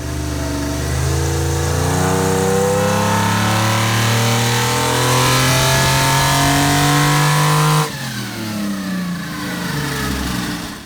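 A Toyota Supra engine with a turbo and combined banks runs loud and close, revving steadily upward for several seconds before dropping back to a rough idle.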